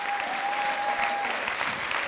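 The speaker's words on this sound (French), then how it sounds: "On l'applaudit très très fort." A theatre audience at a live stage performance applauds steadily, a dense wash of clapping that holds an even level throughout, with a faint steady tone beneath it for the first half.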